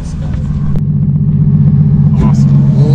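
A Ferrari GTC4Lusso with a Novitec-tuned V12 idles close by with a deep, steady, throbbing rumble that swells slightly as voices talk over it.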